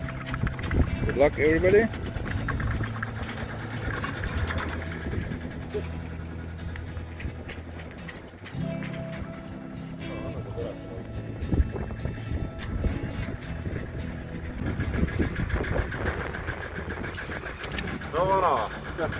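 A Volvo Penta engine aboard a project sailboat at sea, starting out firing on only one cylinder, runs as a continuous low drone with wind noise and water sounds, while people talk over it throughout.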